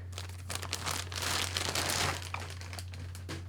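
Thin plastic crinkles and rustles steadily for a few seconds, close by, over a low constant electrical hum.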